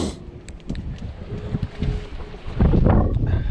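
Steady wind rushes and buffets against the microphone outdoors at a fishing spot by the sea, growing louder and rougher toward the end, with no voices.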